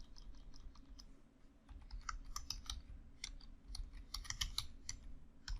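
Quiet, irregular key clicks from typing on a computer keyboard while entering a line of C++ code, with short pauses between bursts of keystrokes.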